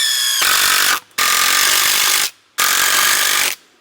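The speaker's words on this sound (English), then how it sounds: "Come up here, run a few screws in our top post." Screws driven into a wooden top post with a power drill during flood-damage repair: three sustained, loud high-pitched whirring bursts separated by brief pauses, close up, with no talking.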